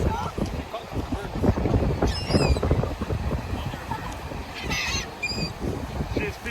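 A goose honks in a few short, nasal bursts while being hand-fed on a breezy beach, with wind buffeting the microphone and people talking nearby.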